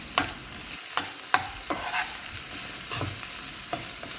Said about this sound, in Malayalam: ഇനി കാൽ ടീസ്പൂൺ ഗരം മസാല പൗഡർ ചേർത്ത് ഇളക്കി ബൗളിലേക്ക് മാറ്റാം